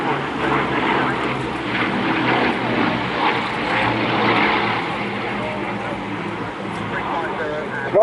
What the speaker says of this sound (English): I have little doubt the crew is really relishing the opportunity to display these very vintage aircraft.